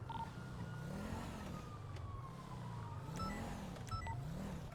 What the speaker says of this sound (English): They heard the sirens.